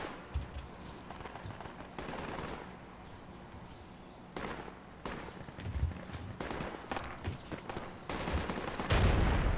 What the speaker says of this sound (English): we just blew up this fob